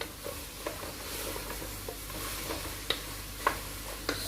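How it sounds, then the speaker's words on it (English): Okra soup fries in a pot with a soft, steady sizzle, broken by intermittent scrapes and clinks of stirring, heard close but fairly quiet. "Need to fry it very well"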